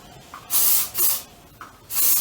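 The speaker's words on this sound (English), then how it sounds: "Let me spray some hair lacquer and then you can see the result." Hair lacquer from an aerosol can is sprayed onto hair in three bursts of steady, close hiss, the first two back to back and the last after a short pause, with no talking.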